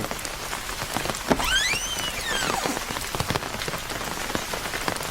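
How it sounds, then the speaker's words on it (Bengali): Heavy nighttime rain in a dramatized ghost story, a dense steady patter of drops on a surface with a faint whistling tone rising and falling midway, no voices. "আরে রঘু বাবা, তুমি এই বৃষ্টির মধ্যে?"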